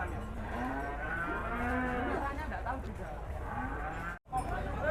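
A cow at a cattle contest lets out a long, loud, wavering moo close by, with people talking in the background.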